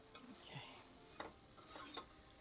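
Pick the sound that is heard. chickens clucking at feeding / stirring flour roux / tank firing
stirring flour roux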